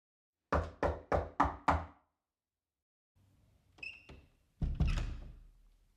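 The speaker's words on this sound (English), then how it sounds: "a knock came at her door" A quick series of five sharp knocks lands on a door, loud and evenly spaced, followed by a pause and then a few softer thuds and shuffling sounds, with no voices.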